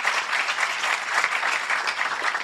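An audience at a farewell gathering applauds steadily, a dense continuous patter of many hands clapping at moderate loudness without speech.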